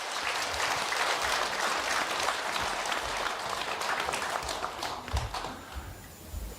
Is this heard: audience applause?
yes